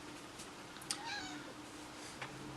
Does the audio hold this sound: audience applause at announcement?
no